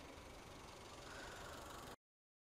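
A 19-year-old Mazda 323 Classic GLX with a 1.6 engine idles with the air conditioning on fan setting 2, making a faint, even hum for about two seconds before it cuts off abruptly.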